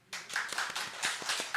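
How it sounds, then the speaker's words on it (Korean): A short burst of applause from a church congregation honouring a deacon during a Sunday service, brisk hand claps starting abruptly and continuing evenly through the whole moment at moderate volume, with no talk over them. "박수 한번 쳐줄까요?"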